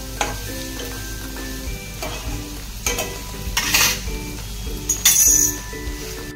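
Onion sautéing in a pan until browned, with a constant sizzle broken by several spoon stirs and metallic clinks that grow louder toward the end.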